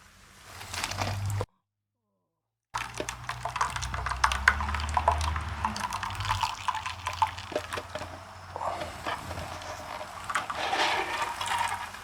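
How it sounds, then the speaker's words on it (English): Blended coconut milk pours through a nut milk bag into a bowl, a close liquid splashing and trickling with a short silent break, then continued dripping and pouring. "now I'll just put the nut milk bag over the top and pour it right into the bowl."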